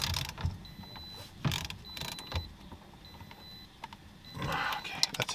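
A ratchet tightens the steering wheel bolt on a Toyota GT86 in a few short bursts of rapid clicking, separated by quiet pauses and light handling noises.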